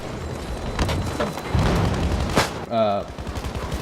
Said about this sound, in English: Fucking grenade.